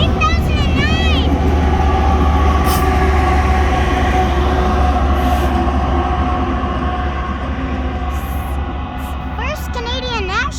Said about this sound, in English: that was a pretty short train